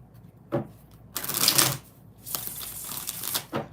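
Tarot cards are shuffled for a reading in a few quick riffling bursts, close and crisp, with short pauses between.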